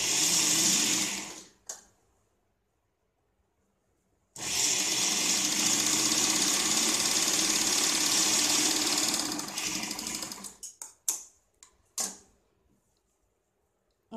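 A sewing machine stitches a folded fabric strip onto a blouse, loud steady whirring in two runs, a short burst and then a long continuous stretch, ending in a few brief stop-start spurts.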